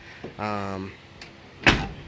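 A short voiced sound is followed by a single solid thud of a 1985 Chevy S10 pickup truck door shutting close by, sharp and brief.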